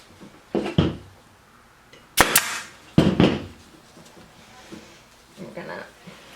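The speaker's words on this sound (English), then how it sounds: "gonna keep tightening and stapling." Sharp staple gun shots drive staples through upholstery fabric stretched tight over furniture, a cluster of loud snaps including a quick double hit, with quieter handling rustles between.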